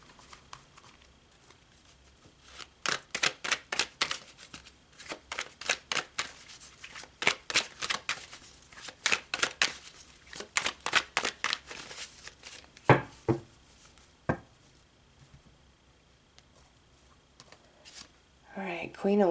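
A deck of tarot cards is shuffled by hand close up, with quick papery bursts of riffling and tapping in irregular clusters. A voice talks intermittently in the background.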